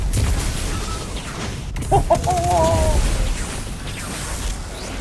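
Destiny 2 gameplay with a void Warlock build: rapid bursts of weapon fire and grenade blasts crackle continuously, with a sharp burst midway, over a low game soundtrack.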